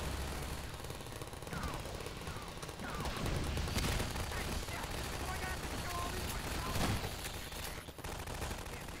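Turrets fire in Half-Life 2 in rapid, sustained automatic bursts, loud and dense, with crackling impacts layered through the whole stretch and a voice talking over the gunfire.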